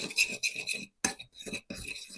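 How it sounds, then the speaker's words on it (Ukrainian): A utensil scrapes and clinks against a bowl in short bursts while stirring oil, salt and mixed pepper, close and clear, with brief gaps between strokes. "Усе це розмішаю."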